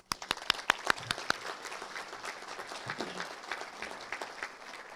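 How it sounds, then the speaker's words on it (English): Applause for donors at a STARS 2024 event. A few loud, sharp claps open it, then a broad patter of audience clapping carries on evenly and a little quieter, with scattered louder claps and no talk. "Huge round of applause quickly for our donors."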